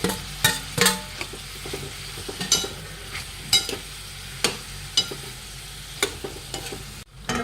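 Tomatoes tossed into vegetables sizzling in a pan, a soft steady fry under repeated sharp spatula clacks and scrapes against the metal roughly every half second, close and clear with no talking.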